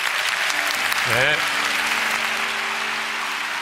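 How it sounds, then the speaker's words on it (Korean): A church congregation at a global Daniel prayer meeting claps for the guest speaker, a dense, steady applause filling the whole stretch while a voice briefly speaks over it. "우리 강사님 위해서 박수 한번 하겠습니다."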